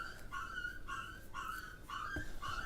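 A pet dog whimpers and whines in a run of high, drawn-out cries, several short plaintive whines repeating close by, with a faint thump near the end.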